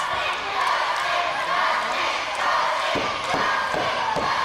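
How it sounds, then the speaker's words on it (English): A wrestling arena crowd swells with loud cheering and shouts during a match between Bruno and Dustin Rhodes, with a few thuds near the end, the roar staying fairly steady throughout. "You hear the crowd coming up."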